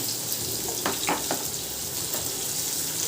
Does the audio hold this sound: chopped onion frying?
yes